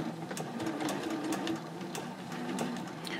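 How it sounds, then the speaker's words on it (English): A sewing machine stitches lines on a small fabric mini backpack, a close, steady rapid whir of needle strokes running continuously throughout. "Next, I'll be stitching these three lines"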